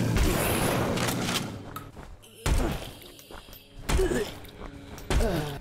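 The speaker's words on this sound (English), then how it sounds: "Sound design for each gun is pretty punchy." Gunfire in the survival horror game Eternal Evil, with several punchy, heavy shots landing in separate bursts that ring out between them, mixed with someone talking over the action.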